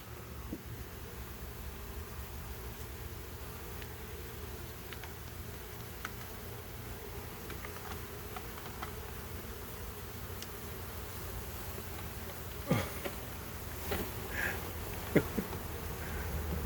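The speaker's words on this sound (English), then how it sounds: "That's what I call a handful of bee." A swarm of honeybees hums steadily during a bee removal, a faint continuous buzz with a few scattered ticks and rustles.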